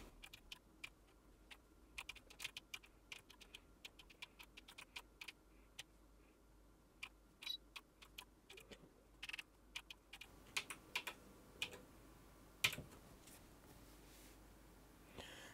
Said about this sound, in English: Now if we type in a simple little program,